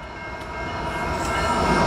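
A southbound Canadian National manifest freight train passes as a deep rumbling roar that swells louder over the short stretch, with no voices.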